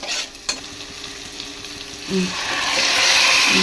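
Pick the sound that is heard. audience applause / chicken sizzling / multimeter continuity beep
chicken sizzling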